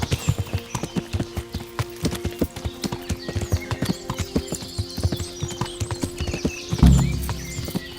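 Horse hooves clip-clop at a steady walking rhythm in a medieval video game, close and distinct, with faint ambient tones and a heavier thump near the end.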